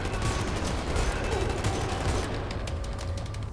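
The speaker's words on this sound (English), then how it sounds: "ran straight up to their gunfire" Dense enemy gunfire from the shooter Wolfenstein: The New Order, a continuous fusillade of overlapping shots that stays loud and close throughout, with faint voices under the racket.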